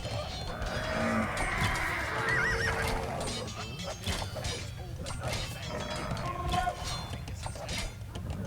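Horses neighing and whinnying in a military camp in the strategy game Age of Empires II, with clip-clopping hooves and livestock bleats in a busy game ambience, a whinny rising clearly around the middle.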